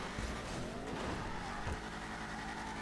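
Vapid Dominator muscle car in GTA V braking hard off-road, a steady engine roar with brief tire squeal and skidding bursts, loud and close throughout.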